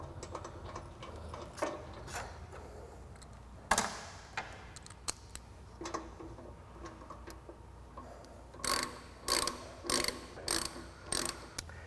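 A ratchet tightening a brake caliper bolt on a Harley-Davidson Road Glide, scattered clicks early, then a rapid run of evenly spaced, crisp ratcheting bursts near the end, close and alone.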